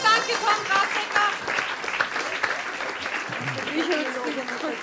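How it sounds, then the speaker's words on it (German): An audience claps at a live literature show after a winner is announced, with steady applause under a voice speaking at the start and a brief vocal sound near the end. "Großer Applaus"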